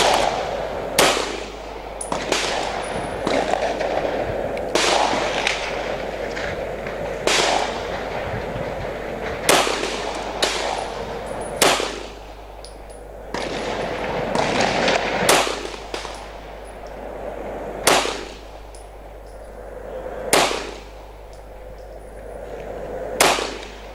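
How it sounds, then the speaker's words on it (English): A Colt 1911 9mm pistol fires Federal 147 grain hollow points at an outdoor range, about a dozen sharp, loud shots at irregular intervals of one to three seconds, each with a short echo, no talk. "So we'll try 9 shots of them and we'll go for the target across from it"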